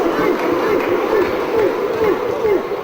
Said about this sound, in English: And you hear the fans.